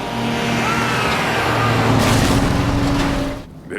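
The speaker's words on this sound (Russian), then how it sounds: "В результате риэлтор уезжает уже на грузовике." Truck engine in a film, a loud sustained drone that builds and then fades as the vehicle drives off, ending in quieter near-silence.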